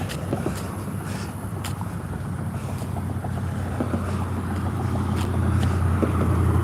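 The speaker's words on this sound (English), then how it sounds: "Pickup truck, pickup truck." A pickup truck drives past along an old road near the site of a destroyed mansion, a steady engine and tyre rumble that swells slightly as it nears, with wind noise over it.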